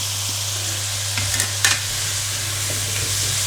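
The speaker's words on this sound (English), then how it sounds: "now I'm going to add my drained potatoes into this and just toss them around" Drained potatoes tossed around a hot pan with spices, a steady broadband sizzle with a low hum beneath and a couple of brief scraping stir sounds midway, close and alone without talk.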